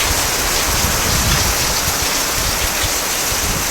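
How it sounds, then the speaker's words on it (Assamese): Heavy rain pours down steadily, a dense, loud, unbroken roar of water with no voices. "ইমান বৰষুণ দিছে"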